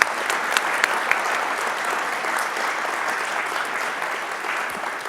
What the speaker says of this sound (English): Round of applause, everybody, for Mike.